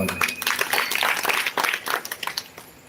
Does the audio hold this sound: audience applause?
yes